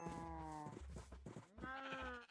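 Minecraft sheep bleat in a pen, two long wavering baa calls close up and loud, separated by short choppy game noises, with no talking.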